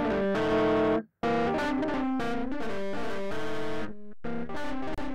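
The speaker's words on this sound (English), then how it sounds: "Yell is a multi-band distortion device, letting you localize the warmth, crunch, and sputter as you see fit." A Puremagnetik Yell multi-band distortion effect processes a bright harmonic instrumental phrase, giving thick crunchy saturation over several loud sustained notes broken by short gaps.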